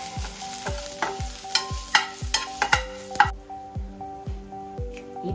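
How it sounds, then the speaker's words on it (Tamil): Mustard seeds and curry leaves crackle and pop in hot oil while a spoon stirs the pan, giving rhythmic scraping strokes about once a second with sharp bursts of sizzling spatter, steady and close, no voices. "இப்போ கடுகுகள் வதக்கலாம்."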